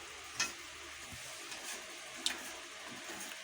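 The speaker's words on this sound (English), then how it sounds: "So right now what we're doing is we're frying the pepper." A quiet, steady sizzle of pepper frying in oil, with a couple of soft clicks of a utensil against the pan.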